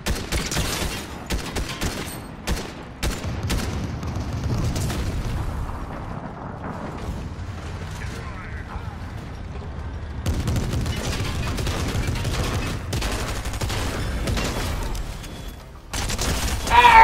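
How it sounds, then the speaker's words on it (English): Gunfire from a shooter video game cracks and booms in dense bursts and rapid volleys, with brief pauses, heavy low rumble and a sudden loud burst at the end. "I hear gunshots this way."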